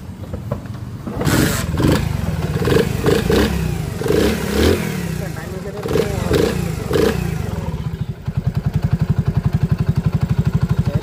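A Honda CD 80 motorcycle engine revs unevenly for several seconds, then settles into a steady, rapid putter at idle, close by and fairly loud.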